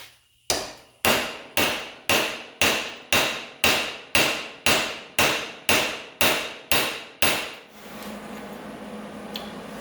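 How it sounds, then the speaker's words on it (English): A hammer strikes metal about a dozen times in a steady rhythm, each blow sharp and ringing, trying to shock a stuck bolt loose; the strikes stop and a low background hum follows. "I'm going to hit this with the hammer a few times to try to break this loose in here"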